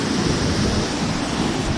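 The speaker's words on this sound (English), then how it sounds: "We're on the other side of the waterfall now." A waterfall in Huatulco roars as a steady, dense rush of falling water heard from close by, filling the whole stretch without pause or talk.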